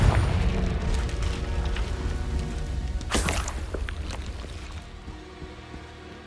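A Confringo spell blast in the Hogwarts Legacy video game, a loud burst at about three seconds over a steady rumbling game background that slowly fades.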